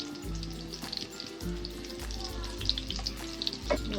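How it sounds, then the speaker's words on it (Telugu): Chopped boiled eggs frying with turmeric in a hot oiled pan, a steady crackling sizzle throughout with intermittent stirring clinks and low bumps, close and moderately loud with no talk. "ఇప్పుడు ఈ గుడ్లని దోరగా వేయించుకోవాలి."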